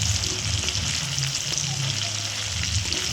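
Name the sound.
chicken pieces frying in oil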